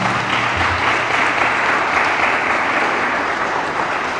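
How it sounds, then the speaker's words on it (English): An audience claps for a panel at a financial literacy event, a steady, dense round of applause lasting the whole stretch with no voices over it. "do at this point allow us to give a round of applause to our"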